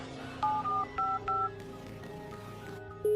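Touch-tone telephone dialing while placing a call to a friend: a quick series of distinct beeping keypad tones in short bursts, then a final tone near the end, clear and close with no talking.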